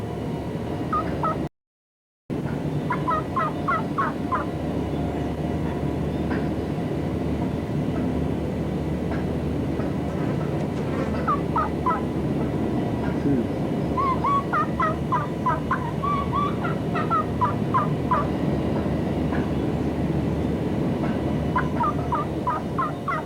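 A mature wild turkey longbeard gobbles on a spring morning hunt, repeated rattling gobbles sounding at intervals over a constant low rumble of background noise, fairly distant and never loud.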